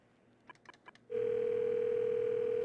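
A telephone handset gives a few soft clicks and button presses, then a steady continuous dial tone comes in loud and close, holding unbroken to the end.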